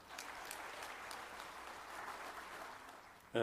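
Audience applause greeting Prime Minister Kim Hang-sik as he comes up for the keynote at an East Asia peace and prosperity forum in Jeju; steady, dense clapping holds throughout, with a louder burst at the very end.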